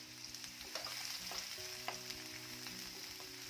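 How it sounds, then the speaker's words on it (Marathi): Finely chopped onion frying in hot oil for bhendi bhaji, a faint steady sizzle with light stirring scrapes, no voices. "तेल चांगलं गरम झालं की यामध्ये एक मोठ्या आकाराचा कांदा आहे जो मी अगदी फाईन चॉप करून घेतलेला आहे"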